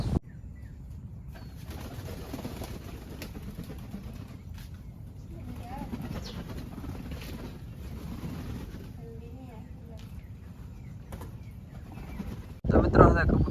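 Pigeons and young pigeons indoors, with soft cooing and low rustling throughout and brief bursts of wing flapping, ending in a louder flurry; a person talks faintly at times.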